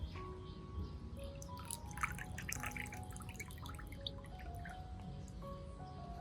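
Rice water drips and trickles gently into a potted orchid, soft and faint against a quiet room background.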